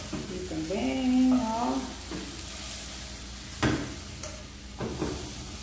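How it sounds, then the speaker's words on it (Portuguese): Bananas frying and browning in a pan, a moderate sizzle with a brief voice-like murmur early on and a couple of sharp clatters of a utensil later. "Vou deixar dourar um pouquinho desse outro lado pra mim colocar o resto das bananas"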